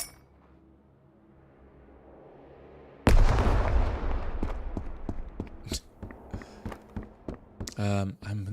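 A grenade explosion in Road to Vostok's winter mode: after a quiet stretch, one sudden loud, close blast bursts out and decays into a long rumble. Sharp metallic clinks and rattles follow, with a voice talking over them.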